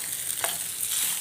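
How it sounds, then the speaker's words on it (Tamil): Fish frying on a hot dosa tawa, a steady close hiss of sizzling oil with a brief sharper spit partway through. "தோசைக்கல் தவாவிலேயே போடுறாருங்க மீன்."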